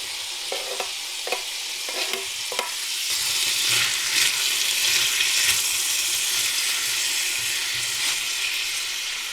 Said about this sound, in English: you can add the tomato mixture to the pan.